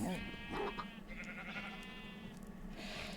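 Several sheep bleat in Minecraft, a string of wavering calls spread over a few seconds, fairly close and clear, with steady game background behind them.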